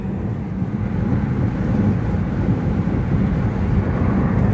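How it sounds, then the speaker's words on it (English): An aeroplane taking off from Harare International Airport in Zimbabwe makes a steady, low, rumbling roar that holds at an even level throughout, heard from a distance. "I'm lucky to film, you know, that aeroplane going up the sky"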